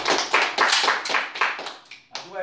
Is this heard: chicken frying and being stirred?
no